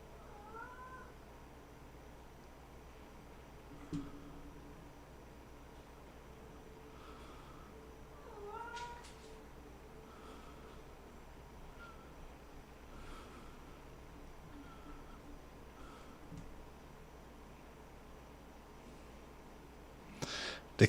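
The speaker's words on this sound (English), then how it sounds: "The kitty's in the background." A cat meows repeatedly in the background, several short, faint calls spread across a quiet room with low hum, plus a few soft knocks.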